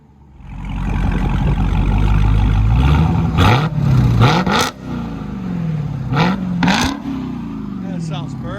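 A stock Dodge Charger Hellcat Redeye with its supercharged 6.2L HEMI V8 is revved close by, a sustained low growl followed by several sharp blips that climb and fall, with voices talking between the revs.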